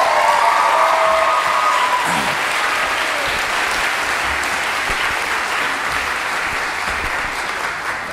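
Loud, continuous applause from a crowd at a charter high school graduation ceremony for its first graduating class, a thick steady roar of clapping lasting several seconds with a faint tone at the outset.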